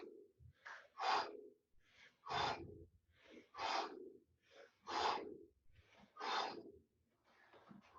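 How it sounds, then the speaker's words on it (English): A breathing exercise of short inhales and forced exhales repeats in a steady rhythm. Six or so sharp, breathy exhale bursts alternate with softer intakes, close and fairly quiet, with no talking. "A little bit in, a little bit out, a little bit in, a little bit out"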